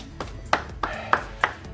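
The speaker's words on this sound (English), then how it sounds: "Hand clap from the audience there." A small audience at a live full-body cardio workout class claps in a sparse, slow rhythm, about six distinct hand claps spaced roughly a third of a second apart, fairly close and crisp over a quiet room.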